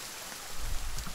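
Rain falling in the survival video game The Forest: a steady, close hiss of rainfall with soft low patter building in the second half of the short stretch, with no voices.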